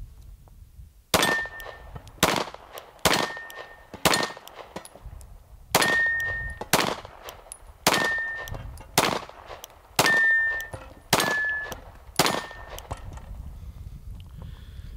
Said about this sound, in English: Let's go shoot some pepper poppers.